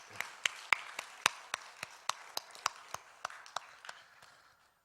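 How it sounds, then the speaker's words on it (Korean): A church congregation claps during a youth retreat service, about a dozen sharp, separate claps in a slow, uneven rhythm that fades out toward the end, with no talking over it. "박수 한번 다시 한번 하겠습니다"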